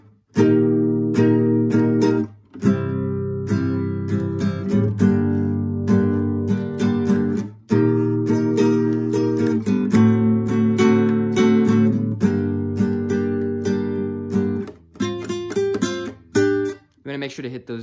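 Acoustic-style guitar playing the intro of a song: loud, close strummed and picked chords in repeating phrases with brief pauses between them, played alone without talking.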